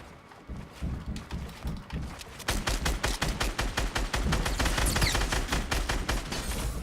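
Rapid gunfire from Fortnite Battle Royale: bursts of shots that become a dense, steady volley after a few seconds, loud and close with no talking.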